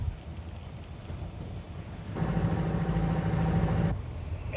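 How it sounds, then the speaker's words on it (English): A car engine, a taxi, idles in the background, then a louder steady engine drone with a low hum and broadband rush swells in for about two seconds before dropping back to a quieter rumble. "listen to that engine"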